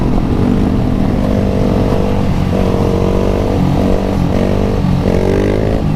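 Several sport motorcycles, among them KTMs, idle and rev together at a gathering of bikes, loud and close, with rising throttle blips layered over a continuous rumbling engine drone.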